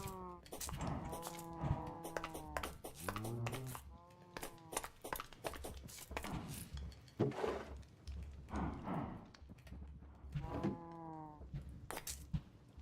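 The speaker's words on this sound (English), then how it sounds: "Random cow noises." Cows in the Minecraft video game moo repeatedly in a horror-themed world, their drawn-out, game-like calls rising and falling in clusters over quiet background sounds.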